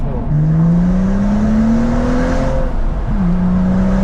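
Car engine pulling hard under acceleration, a loud rising whine climbing steadily through the gears with a brief drop and recovery near the end, heard from inside the cabin with no talking.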